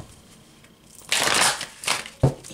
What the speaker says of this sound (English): I'm going to put it back, and we're definitely going to shuffle.